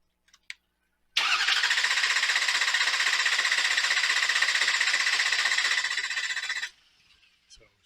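A Ford 6.0 Powerstroke truck engine cranks without firing, a steady rapid starter churn lasting about five and a half seconds after a couple of faint clicks, then stopping abruptly.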